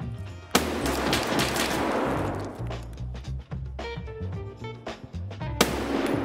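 Gunfire in the video game Escape from Tarkov: a sharp, loud shot opens, followed by rumbling, ringing echoes and a second sharp report near the end, with no talking.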